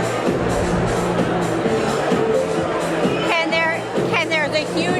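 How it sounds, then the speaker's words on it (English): A large, dense crowd murmurs and chatters at Suffolk GOP headquarters on election night, a steady close hubbub with scattered whoops and a couple of louder voices rising above it near the end. "There's a huge crowd here at Suffolk GOP headquarters."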